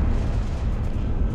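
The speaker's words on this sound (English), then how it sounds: "Gotta remember it's a massive plasmic explosion." A massive plasma explosion in the video game Halo Reach, a loud sustained low rumbling boom filling the whole moment without a break.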